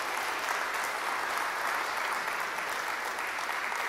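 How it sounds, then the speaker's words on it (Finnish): An audience at a security conference panel in Kouvola claps for the panelists, a dense, even wash of applause that holds steady and loud for the whole stretch without pause. "Ja nyt mä ehdotan, että tälle hienolle paneelille kunnon aplodit."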